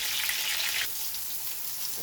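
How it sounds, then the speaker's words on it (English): Chicken pieces fry in oil in a pan, a bright hissing sizzle that drops noticeably in loudness after the first second and continues softer, with no talk. "I'm gonna remove half of the oil and continue frying the chicken."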